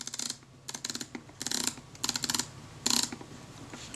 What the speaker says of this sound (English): Just rotate this until I hear it click into place.